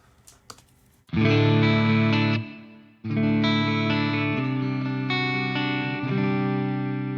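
Sustained electric guitar chords through the modulated reverb of the STL Tones AmpHub amp-simulator plugin, a wide, shimmering reverb with a wavering modulated tail, loud and close; a short pause between two strums.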